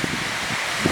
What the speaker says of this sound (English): Seems to always get windy once I bring the camera out.